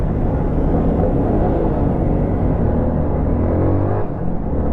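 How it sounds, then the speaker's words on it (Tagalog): Steady road traffic rumble picked up by a helmet-mounted Andoer EY-510A mic on a Kawasaki Ninja 1000 motorcycle, a loud continuous low engine and wind drone throughout with a slight dip near the end. "Medyo traffic."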